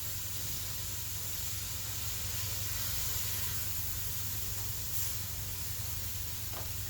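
Mushrooms sizzle in a pan on a wood stove, a steady, even hiss of frying that holds constant throughout with no talk.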